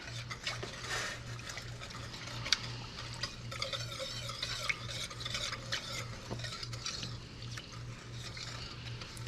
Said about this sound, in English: Get this stirred up and dissolved